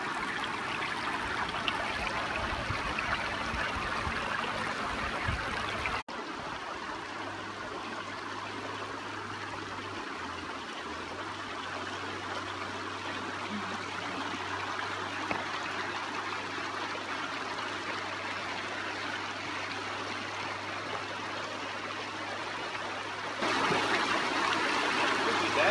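Barney Creek flows steadily outdoors, a continuous broad rush and trickle of water with an even hiss throughout and no speech.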